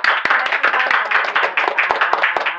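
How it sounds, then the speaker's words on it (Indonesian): Brisk clapping from a small audience at a casual talk show about a Semarang poundfit group, close and steady, with distinct individual hand claps in a quick uneven rhythm throughout. "tepuk tangan dong buat"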